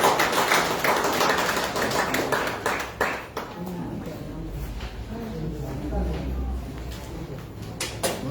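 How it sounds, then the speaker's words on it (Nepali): A church congregation at a Saturday Lord's Supper service claps together, a dense run of overlapping hand claps held at steady loudness throughout, with some voices mixed in. "ताली बजाएर"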